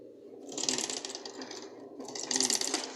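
A sewing machine stitches an Audi A3 seat side panel in two quick rattling bursts separated by a brief pause, close and fairly quiet, with no talking.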